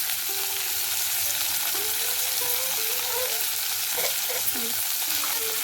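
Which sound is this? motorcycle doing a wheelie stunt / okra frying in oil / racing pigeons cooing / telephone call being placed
okra frying in oil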